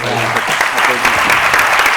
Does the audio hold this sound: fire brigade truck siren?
no